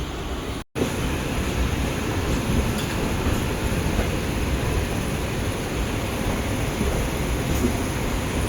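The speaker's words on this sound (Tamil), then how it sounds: "நம்ம இந்த ஜோலார்பேட்டை பெங்களூர் மெமோ பார்த்தீங்கன்னா கரெக்டாக 2:55 ஜோலார்பேட்டை ஜங்ஷன்லேருந்து கிளம்பிடுச்சுங்க" Jolarpettai–Bangalore MEMU electric train pulling out of Jolarpettai Junction, a steady, dense rumble and hiss of rolling stock heard from on board, constant in level with one brief dropout near the start; no talk.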